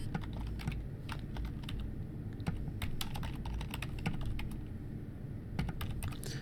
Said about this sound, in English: okay, I just typed it in.